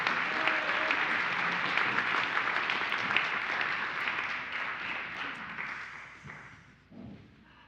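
A congregation applauds a band during a church service, full steady clapping that slowly thins and fades toward the end, with a few last claps trailing off.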